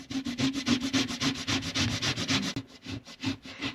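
Four medium boiled potatoes grated by hand in a kitchen, heard as a close, rhythmic rasping of evenly spaced strokes that briefly pauses and then resumes at the same steady pace.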